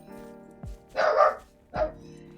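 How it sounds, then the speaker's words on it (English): A dog barks twice nearby in a home, a sharp double bark followed by a single bark, over a quiet background hum. "My dog just had to ruin the recording, and I can't really just re-record this. Yup, just keep barking."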